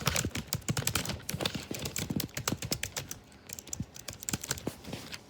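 Fingers type quickly on a laptop keyboard close by, producing a dense run of light, crisp key clicks with brief pauses. No voices are heard.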